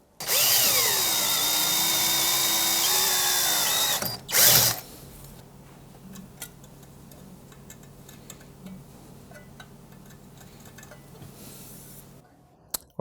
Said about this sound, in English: we have the first hole drilled